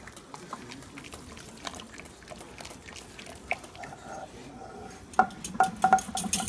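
Homemade potato soup stirred in a pot, soft scraping and faint liquid sloshing, then clearer clinks of a utensil against the pot toward the end, with a voice talking over it.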